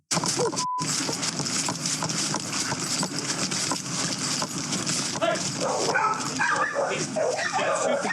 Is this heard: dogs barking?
yes